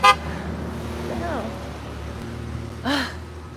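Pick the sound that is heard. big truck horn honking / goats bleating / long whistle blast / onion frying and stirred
big truck horn honking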